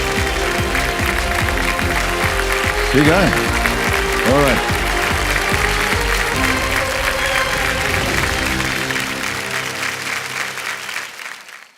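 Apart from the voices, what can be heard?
audience applause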